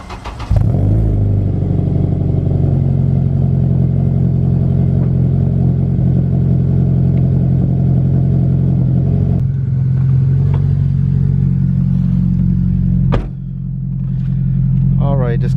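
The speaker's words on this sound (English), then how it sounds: "hopefully you guys can get some exhaust clips when I set the car up" A Honda Civic Si idling after a warm start, its engine holding a steady, loud low drone with an even exhaust rumble, a brief drop in level near the end before the idle resumes.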